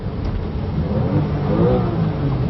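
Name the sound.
Porsche car engine revving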